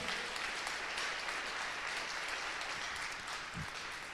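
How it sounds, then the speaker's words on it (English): Audience at the final pitches of a Garage48 wood-themed hackathon applauds in a dense, steady wash of clapping that lasts the full four seconds, loud and sustained without speech. "Big applause to Jürgen"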